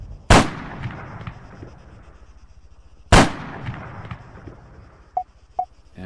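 Two loud, sharp long-range sniper rifle shots from the Arma 3 video game, each with a long rolling echo decaying over a couple of seconds, followed later by two faint distant pops.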